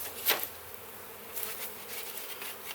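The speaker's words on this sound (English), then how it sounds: "I'm now standing in the middle of the bee run. So this is where they fly." Honeybees flying in a steady, close buzzing swarm at the entrance of a hive on a stand, with one brief louder whoosh as a bee passes near, and no voices.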